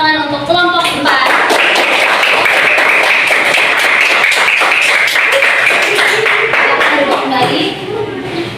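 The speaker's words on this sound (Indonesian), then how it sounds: "Beri tepuk tangan untuk kelompok 4." Classmates in a room give a round of applause after a group presentation, a burst of brisk, close clapping sustained for several seconds, with a spoken voice just before it and the applause fading near the end.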